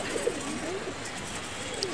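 Pigeons, somewhat puffed up in winter, coo softly in low, rolling calls, a few close by, over a faint murmur of background noise.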